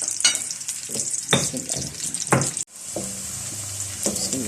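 Onions frying and browning in a pan for dhaba-style mash daal, with a constant sizzling hiss and a few sharp clattering stirs, briefly cut off by a quick dropout before the sizzle returns.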